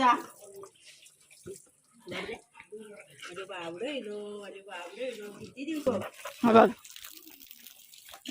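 A golden retriever dog is being bathed outdoors in a village, with intermittent splashing and running water under frequent close talking.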